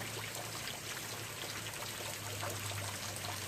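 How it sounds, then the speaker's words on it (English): Steady outdoor rain hisses evenly and continuously at moderate level, a dense wash of falling water with no voices over it. "Sorry about the rain noise, but it's raining."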